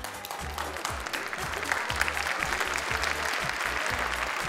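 An audience at a televised family show claps, a steady, dense applause that stays loud and even from start to finish.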